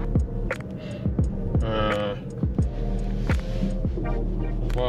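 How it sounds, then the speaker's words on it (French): A Ford Mustang Mach-E electric car on a road test gives a low cabin hum with rhythmic throbbing thumps from the road and faint whine, heard close from inside. "je vais faire un petit essai routier"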